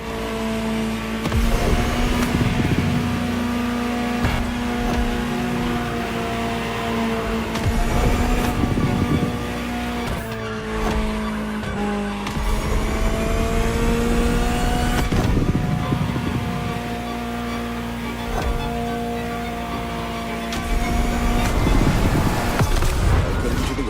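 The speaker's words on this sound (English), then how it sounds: "Just listen to the car you're driving." A Ferrari supercar engine in the racing video game The Crew Motorfest, a steady loud drone with sustained tonal harmonics that rise and fall through gear changes, revving continuously near the listener with no talk over it.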